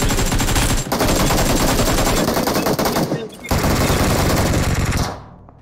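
Sustained, loud automatic gunfire from a building in PUBG Mobile (BGMI), with rapid shots rattling almost without a break, one short pause, then a final burst that cuts off abruptly.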